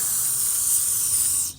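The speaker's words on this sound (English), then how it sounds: "Now I'm going to spray the tank down." Aerosol spray hisses steadily onto a push mower's fuel tank during a repair, one continuous close blast that cuts off abruptly.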